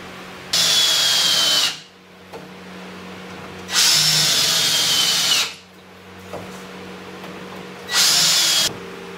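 Power drill driving screws into a wooden cow stanchion: three loud whirring runs of a second or more each, rising in pitch, separated by quiet gaps, close by.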